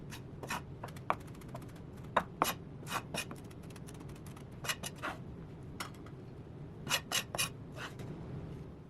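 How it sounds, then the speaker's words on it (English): Parsley minced with a knife rocked on a slight angle across a cutting board, giving quiet, irregular crisp taps and clicks in scattered short runs over a soft background hiss. "I'm using the back of the knife blade to mince the parsley by rocking it up and down on a"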